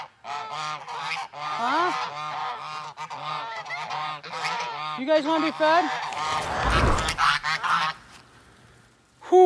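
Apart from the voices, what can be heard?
geese honking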